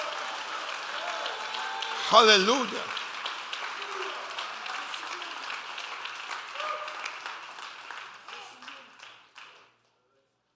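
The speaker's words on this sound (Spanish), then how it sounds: "Denle un fuerte aplauso al Rey con el corazón." Church congregation applauding at an evening service, a steady round of clapping that swells briefly and then fades out, with a voice calling out over it.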